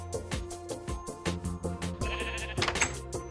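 A sheep bleats a few times in modded Minecraft, short nasal calls sounding over steady background game music.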